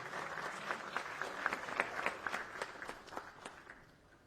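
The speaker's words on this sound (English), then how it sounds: "Can we give them a round of applause, ladies and gentlemen?" Audience applause at a Sri Lanka coffee festival, a steady wash of many hands clapping from a crowd, fairly distant and moderate in level, tapering off toward the end.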